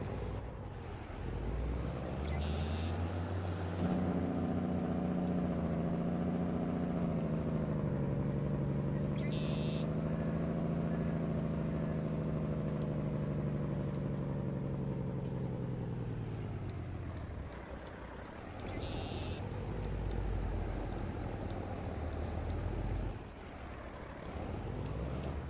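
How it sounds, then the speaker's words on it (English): Truck hauling a heavy trailer uphill in Farming Simulator 22: a loud, sustained engine drone that strains and shifts in pitch, broken by short hissing air-brake bursts near the start, middle and end. "Trailer might be a little bit much for this truck, but I liked the truck,"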